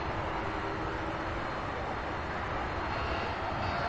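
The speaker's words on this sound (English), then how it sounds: "This one here, a Boeing 767, 10 years old, first flight August 2012, heading to Billings, Montana." A Boeing 767 jet airliner at Louisville's SDF airport gives a steady broadband engine roar, distant and fairly faint, continuous throughout with no talking.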